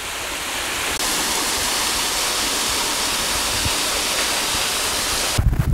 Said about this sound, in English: this is the upper level of Kamba East Falls